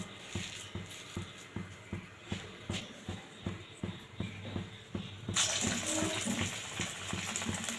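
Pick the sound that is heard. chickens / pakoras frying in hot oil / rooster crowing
pakoras frying in hot oil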